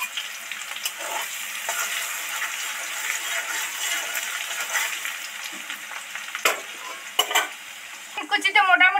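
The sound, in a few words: frying crushed chopped garlic in oil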